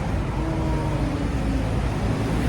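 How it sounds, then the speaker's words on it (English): A city bus pulls up through rainy street traffic, a steady, loud, close engine rumble mixed with the broadband wash of passing cars, with no voices. "Our bus is coming."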